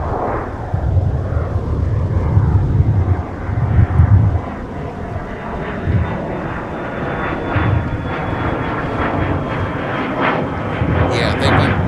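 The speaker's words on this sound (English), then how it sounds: "All right, got a BizJet taking off." A business jet takes off from Minneapolis–Saint Paul airport on a winter day, its deep engine rumble swelling and pulsing in the foreground while people talk over it.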